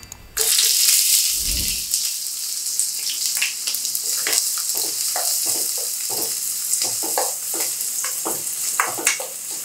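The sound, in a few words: chopped onions frying in oil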